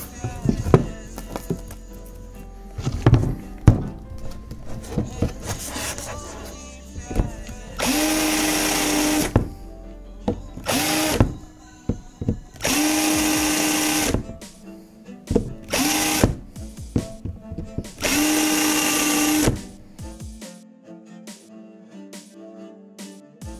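A power drill bores countersink holes in guitar fretboard wood, whirring in several sustained bursts of a few seconds each, interrupted by short clicks, handling noises and brief pauses.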